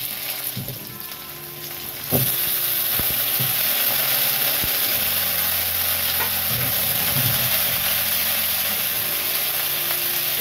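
Pumpkin pieces fry loudly in a pan with panch phoron and dried chilli, a steady sizzle that jumps up after about two seconds and carries on throughout, with occasional stirring knocks.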